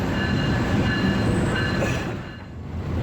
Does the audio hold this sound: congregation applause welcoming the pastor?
no